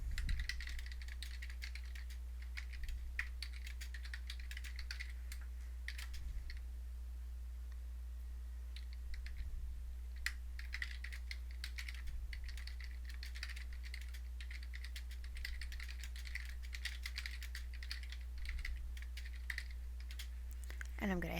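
Someone typing a message on a computer keyboard, a steady run of quick, light key clicks with brief pauses, fairly close and quiet over a low background hum.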